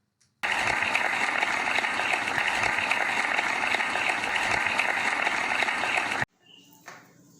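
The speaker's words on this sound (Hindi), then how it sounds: "तालियों के साथ इनका हम स्वागत करते हैं।" An audience at an online poetry gathering applauds to welcome a poet: a loud, dense, continuous wash of clapping lasting around six seconds, stopping abruptly into near-silence with a faint voice afterward.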